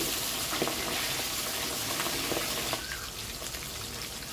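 Fish fry in a pan with a steady, soft hiss of sizzling oil and occasional small pops, fairly quiet and without talk.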